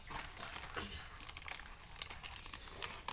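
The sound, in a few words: opening a plastic packet of Bonful lachha semai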